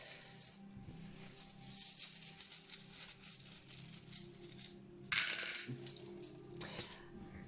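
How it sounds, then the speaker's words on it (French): Small charms tossed onto a table, a few light metallic clinks and rattles with a sharper scatter of them near the end, otherwise quiet. "Allez, petit jet de breloques pour les 3 mois, janvier, février et mars."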